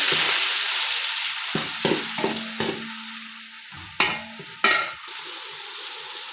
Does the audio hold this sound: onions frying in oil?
yes